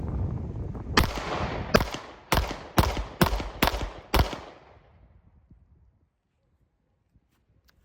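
Seven sharp handgun shots fired two-handed at a range without using the sights, point shooting in a quick, slightly uneven rhythm; each crack is loud and close with a short echo, followed by quiet.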